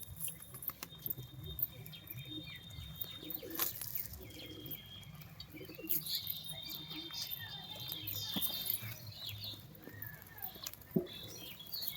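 Andhra pigeons coo softly in a loft among about sixty birds, with faint flutters, scratches and a few thin chirps forming a quiet, continuous background with no one speaking.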